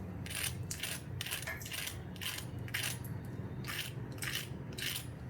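Repeated crisp, crackly crunches of crispy fried potato patties (aloo tikki) in short bursts, roughly one every half second, close up over a low background hum.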